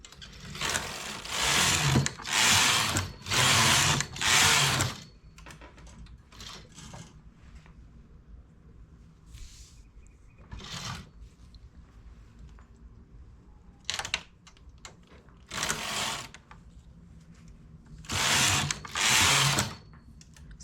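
Domestic knitting machine carriage sweeping back and forth across rows of a baby romper cuff, a loud mechanical whirring rush repeated in bursts of several passes separated by quieter pauses, with no talk.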